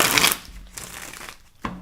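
Playing cards riffled and shuffled by hand at close range, a brief papery crinkling burst followed by softer card handling and a final quick flutter, no talking.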